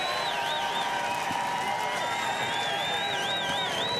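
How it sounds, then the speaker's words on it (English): Race crowd at a NASCAR Xfinity Series finale cheering and whooping for champion Austin Cindric, a dense continuous roar with applause under steady commentary. "The crowd that's here lets him know what a show he just put on."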